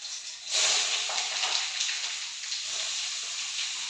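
Papaya pieces drop into hot oil with panch phoron and green chilli, bursting into a loud, steady sizzle that starts abruptly and continues unbroken.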